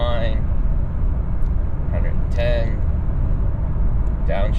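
Engine of a 2024 Toyota Tundra SR5 TRD Off-Road pickup towing a load, a steady loud in-cabin drone as it downshifts, with brief voice fragments over the continuous rumble.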